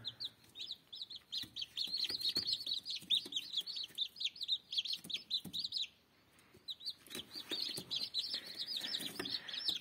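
Newly hatched chicks inside an incubator give a continuous stream of high, rapid peeping that runs nearly unbroken, with a short lull midway, and faint soft rustling underneath.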